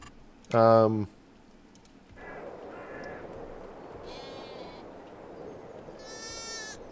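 A single loud, close sheep bleat from a Farming Simulator 22 flock rings out briefly, followed by fainter, higher bleats from other sheep over soft game ambience.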